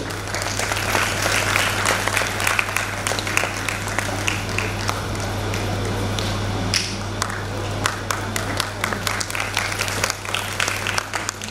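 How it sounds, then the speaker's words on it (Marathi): A crowd at a women's Shravan festival event claps loudly and continuously throughout, a thick, sustained round of applause with no pause. "जोरदार टाळ्या झाल्या पाहिजे."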